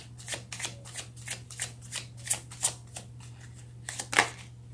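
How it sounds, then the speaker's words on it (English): Tarot cards are shuffled and drawn from a deck in a quiet room, giving a string of soft, close papery riffles and flicks in an irregular rhythm with a few sharper snaps, over a faint steady hum. "I'm going to pull this card out here."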